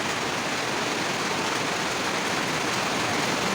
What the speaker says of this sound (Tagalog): ganyan ang ulan ngayon, pabugso-bugso. Sobrang lakas naman pag umulan.